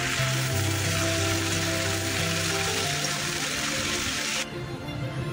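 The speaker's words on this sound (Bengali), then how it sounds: "এখানে পেঁয়াজ আর রসুন ভাজা করছি" Onion and garlic frying in a pan, a loud, steady broadband sizzle that runs throughout, with a faint low hum underneath and a slight drop in intensity near the end.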